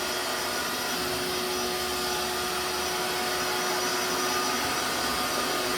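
Vacuum cleaner running steadily and loudly during a suction check in a comparison of a Bissell PowerForce PowerBrush and Electrolux machines, a constant broadband roar with a fixed motor tone and no talk.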